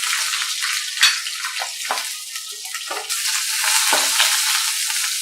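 Eggplant pieces fry in hot oil, a loud, continuous crackling sizzle with occasional stirring scrapes and bursts of spattering.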